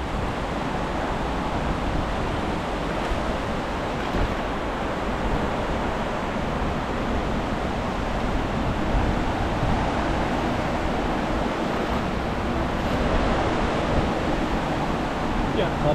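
Strong river current flowing, a steady, broad rushing wash that holds at a constant level throughout, close and continuous with no talk.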